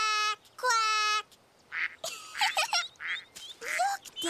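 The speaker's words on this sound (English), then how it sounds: "Caillou thought ducks spoke a very strange language" Cartoon ducks quack in a lively string of nasal, honking calls, some long and drawn out, others short and overlapping, loud and close with brief pauses between bursts.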